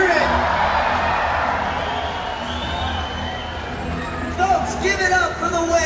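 Audience at an orca show cheering and whooping loudly and steadily throughout, a dense crowd roar that swells near the end with shouts on top.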